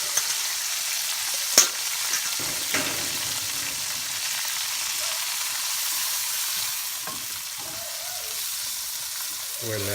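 Vegetables fry in a pan for chicken asado Kapampangan, a steady close sizzle that holds for the whole stretch with a couple of brief sharp clatters near the start.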